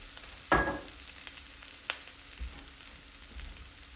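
Shrimp finishing in a hot pan with Chinese cooking wine, a sharp burst of sizzling as liquid hits the pan, then quieter crackles and light stirring knocks fading out.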